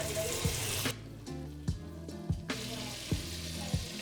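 Espetada meat browning in a generous amount of butter in a pan, a steady broadband sizzle throughout with a few soft clunks of the pan, a brief dip in the sizzle midway.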